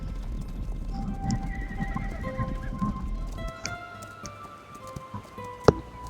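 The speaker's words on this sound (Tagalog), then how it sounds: "This is my horse." A horse clip-clops and whinnies close by, with steady hoof sounds giving way to a neigh, a few clicks and a sharp sudden knock near the end.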